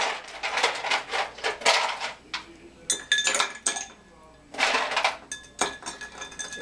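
Ice cubes clink and rattle against a glass as a bacon Old Fashioned is given a vigorous stir, in quick repeated bursts of bright clinking with brief pauses between them.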